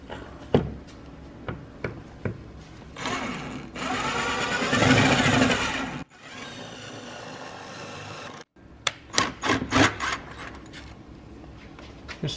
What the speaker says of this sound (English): we're gonna drill all the way through into the cabin